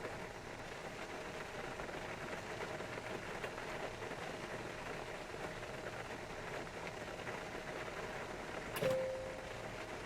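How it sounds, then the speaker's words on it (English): Steady rain from the xEnviro weather add-on in X-Plane 11 patters on an MD-80 airliner in a continuous soft hiss, faint and even throughout, with a short tonal chime near the end. "Guys, can you hear the rain effect too?"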